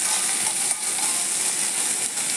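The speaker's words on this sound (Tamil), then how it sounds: "எண்ணெய் விட்டு கடுகு, பருப்பு, மிளகாய், வெங்காயம் வதக்கிக்கலாம்" Mustard seeds, dal, chili and onion frying in hot oil in a pan, a constant close hiss of sizzling with a couple of faint clinks of a utensil, no voices.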